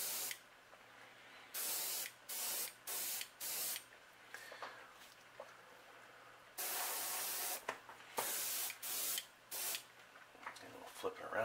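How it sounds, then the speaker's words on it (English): Short bursts of an airbrush or spray can hissing as magenta paint goes onto a factory fishing lure being repainted, close and fairly quiet, with pauses between sprays and a person talking softly between them. "So we're going to lay this right over the bait and lightly spray my magenta."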